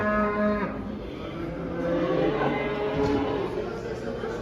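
A cow moos at a livestock market, a long loud bellow followed by a lower drawn-out moo, with market background noise and faint voices behind it.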